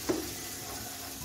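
Ginger and garlic paste frying in a pan, a faint steady sizzle with a brief stir at the start, no talk.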